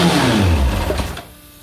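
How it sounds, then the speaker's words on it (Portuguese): A Kawasaki ZX11 motorcycle engine running after repair, a loud, steady mechanical drone that fades and drops away after about a second. "Mas o que é importante é que a moto já funcionou certinho aqui"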